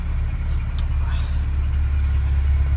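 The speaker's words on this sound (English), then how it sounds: "So the car is running." A Porsche 944 engine idles steadily in a continuous low, even rumble that holds at a constant level throughout, with no revving.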